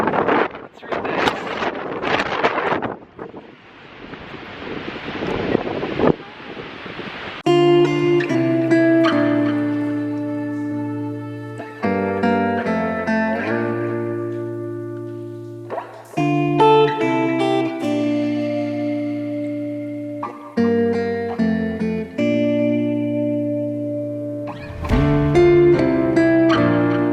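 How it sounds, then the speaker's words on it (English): Strong wind gusts roar and buffet the microphone at a waterfall in Iceland, a loud broadband rush for the first several seconds before steady musical tones take over. "It's so windy."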